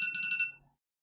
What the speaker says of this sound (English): that's my alarm to wake up